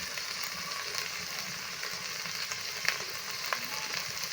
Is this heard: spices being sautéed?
yes